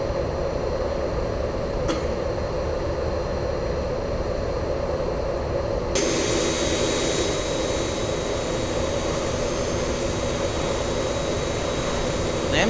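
MD-80 jet engines heard in the X-Plane 11 flight simulator, a steady loud cockpit roar and hiss that continues throughout and brightens partway through, with no speech.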